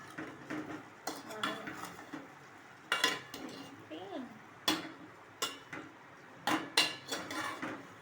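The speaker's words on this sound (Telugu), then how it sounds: "తిప్పుదాం." Turmeric being stirred into chicken curry in a pan, a spoon scraping and clinking against the metal in several sharp bursts over a low background hum, with no talking.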